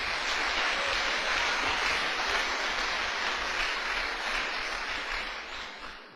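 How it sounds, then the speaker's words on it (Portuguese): Dense, sustained applause from a large church congregation, loud and continuous for several seconds before beginning to fade slightly at the end, with no speech over it. "Uma salva de palmas para o Senhor"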